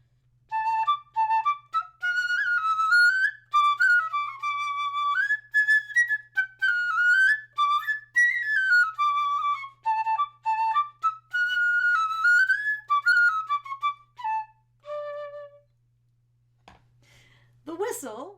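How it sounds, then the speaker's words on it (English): A keyless transverse fife plays a bright, shrill melody of quick, clear notes for about fifteen seconds, close and fairly loud, then stops, followed by a brief faint sound. "the fife is played as a transverse flute, much like those other flutes"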